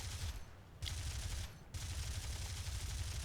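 Aircraft cannon and machine-gun fire in War Thunder during a dogfight with a Spitfire, dense continuous rattling bursts with two brief pauses, loud and sustained.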